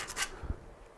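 Sandpaper rubbed across a small wooden cutting board, a couple of short, close scratchy strokes with a soft low thump in between, heard alone.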